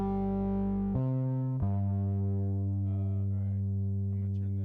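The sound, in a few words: bass guitar with saturation effect, isolated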